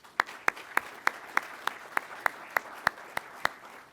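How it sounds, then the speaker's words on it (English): An audience at an Air Force undergraduate pilot training graduation at Vance Air Force Base claps in a steady, evenly spaced rhythm, each sharp clap distinct and fairly close, with no voices over it. "a round of applause for all of our attendees"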